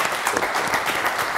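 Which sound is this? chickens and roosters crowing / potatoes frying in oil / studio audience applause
studio audience applause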